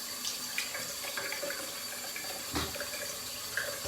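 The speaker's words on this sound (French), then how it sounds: "Je me rince pour la dernière passe." Tap water runs steadily into a sink while a face is rinsed after a shave, a constant close splashing hiss with small irregular splashes and a brief louder gush near the end.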